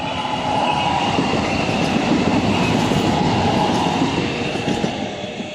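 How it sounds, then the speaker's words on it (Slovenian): A passenger train running from Sevnica to Ljubljana rushes past at high speed, a loud, sustained rumble of wheels and cars with faint clickety-clack that holds steady before easing off slightly at the end. "vlak, ki je v Sevnico, bolj rečeno iz Sevnice v Ljubljano, pripeljal z veliko hitrostjo potnike"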